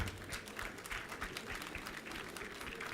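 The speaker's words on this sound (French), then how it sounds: "Applaudir s'il vous plaît, mesdames, messieurs, Madame Fatoumata Bintou Djigo" Audience applause at an award ceremony honouring a woman manager, the Cauris d'Or 2016, filling the clip with steady, dense clapping of moderate loudness throughout.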